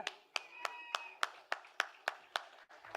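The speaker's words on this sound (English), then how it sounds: "Come on, Mumbai, we can be much more louder with our applause" Individual hand claps at an advertising awards ceremony, about ten sharp, evenly spaced claps close by against a quiet background, with a sustained tone lingering underneath.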